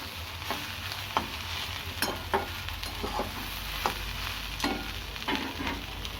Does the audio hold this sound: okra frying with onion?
yes